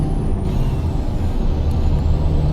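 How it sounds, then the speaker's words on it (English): A steady, low Detroit diesel truck engine in American Truck Simulator drones close by at constant loudness, with faint hissing above and no voices. "Love the sound of this engine. I believe it's one of the Detroit diesel engines."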